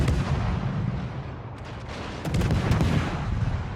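The Harekaze destroyer's 100mm guns fire in World of Warships, a dense rumbling barrage of rapid booming shots, loud and continuous, with a brief lull before another volley builds.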